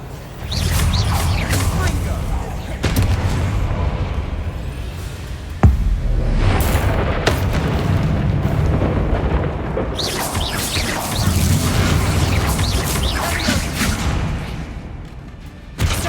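The Confringo explosive spell in the Hogwarts Legacy video game, heard as booming rumbles with a sharp blast, repeated amid ongoing combat noise and a voice speaking now and then.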